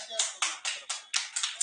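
A classroom of students claps in loud, uneven bursts, seven or eight sharp rounds of hands landing close together, with a bit of child chatter mixed in.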